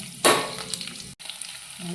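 Tempering spices drop into hot oil with a sudden loud hiss that settles into a steady close sizzle, briefly cut off before frying resumes.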